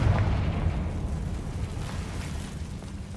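A Confringo blast spell explodes in the Hogwarts Legacy video game, a dense, rumbling low-end boom that opens loud and slowly decays over a few seconds with no voices.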